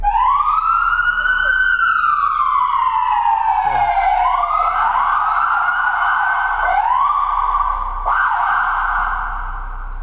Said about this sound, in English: I'm gonna go ahead and hit turn on the siren here